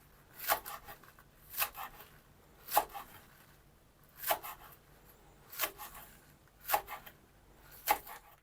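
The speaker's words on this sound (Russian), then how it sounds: "Мы перышки зеленого лука меленько нарезаем." Green onion stalks being finely chopped with a knife for a tomato tartare, heard as seven evenly spaced crisp cuts roughly one per second, close and fairly quiet with no talking.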